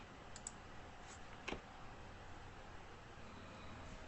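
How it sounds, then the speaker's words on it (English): A single faint key press on a computer keyboard, hitting enter to send a Microsoft Teams chat message, one soft click around the middle amid a steady low background hiss. "I'll hit enter to send that."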